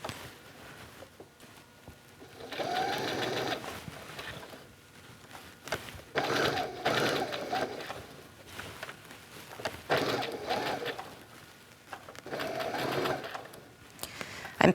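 A sewing machine runs straight stitching around a circle for reverse applique, in several short bursts of rapid, even stitching separated by brief pauses, fairly quiet and close.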